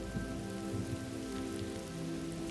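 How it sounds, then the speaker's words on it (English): Steady rain pattering on leaves, a dense, even hiss with soft drops throughout, close and continuous, with a faint low hum beneath and no voices. "The rain played its own rhythm on the leaves"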